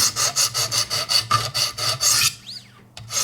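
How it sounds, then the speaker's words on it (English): A Buck 110 knife blade is stroked against a 100 grit stone on a Wicked Edge sharpener, giving a close, rhythmic run of quick rasping strokes, then a brief pause and one more scrape. "we want to start with 100 grit and just work it up and down a little bit like this"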